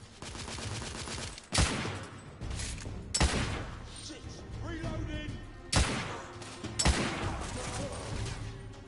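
Video game gunfire in The Order: 1886 against shotgun-armed enemies, several sharp loud shots and bursts spaced a second or two apart over a busy battle bed with faint voice chatter.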